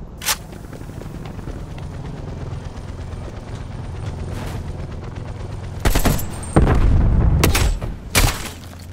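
A flashbang grenade going off in Black Ops Cold War multiplayer: a few loud, sharp bursts near the end, over a steady bed of distant gunfire.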